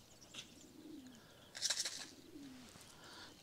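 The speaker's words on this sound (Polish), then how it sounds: "Jest pierwszy gołąb." A racing pigeon lands at its loft after a 350 km race, giving two soft low coos with a brief burst of wing flutter between them, faint and close in a quiet outdoor setting.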